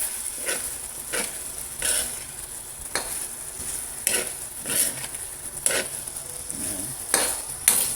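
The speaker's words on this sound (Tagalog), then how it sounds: "Tapos mix na natin dyan yung ating kalabasa." Squash for ginataang gulay is stirred in a hot pan, a spoon scraping and clinking against the pan in a steady rhythm of strokes over a constant oily sizzle, close and clear with no talking.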